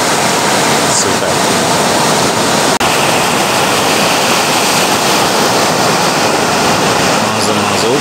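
A small river flows into the sea on a Latvian shore, giving a steady, loud broadband rush of water and surf that holds throughout, with a brief dropout near the middle.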